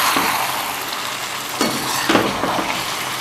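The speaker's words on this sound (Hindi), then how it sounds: "अब इसको फुल फ्लेम पर थोड़ा भूनते हैं" Punjabi-style beef karahi gosht roasting over a full flame, with a loud, continuous sizzle and a few scraping stirs of the ladle against the wok.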